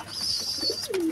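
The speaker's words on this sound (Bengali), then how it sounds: "দেখুন এই পায়রাটা দেখুন, হ্যাঁ এই যে এই পায়রাটা আর তার জোড়া হচ্ছে এটা।" A pigeon coos softly and briefly, a low gurgling call with a faint high ringing tone behind it.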